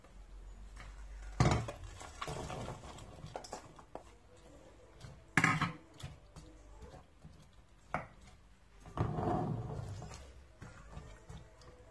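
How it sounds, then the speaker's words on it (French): Two small carrots and an onion are tipped into a frying pan, giving three separate thumps and rattles of vegetables and utensils against the pan, spaced several seconds apart and fairly faint. "là j'ai 2 petites carottes et un oignon. Je vais venir mettre le tout dans ma poêle"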